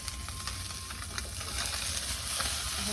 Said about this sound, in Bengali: আমি মাছ ভাজছি